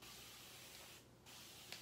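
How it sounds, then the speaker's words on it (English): Misting spray bottle filled with plain water spraying a painted sign, a soft steady hiss close by with a short pause near the middle, then resuming. "I'm just gonna take my misting spray bottle. This just has water in it."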